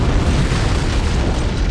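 A loud antimatter charge explosion aboard a ship in Halo CE: a sustained, dense boom with heavy low rumble that fills the whole moment without letup.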